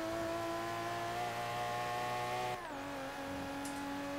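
A car engine drones steadily in the racing video game Forza Horizon 3, its pitch dropping sharply with a gear shift partway through before settling into a lower hum.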